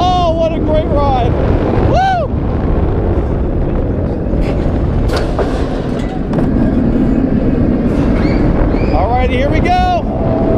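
The Bizarro roller coaster at Six Flags Great Adventure in New Jersey roars along its track with constant rushing wind and rumble, while riders shout and scream over it from close by.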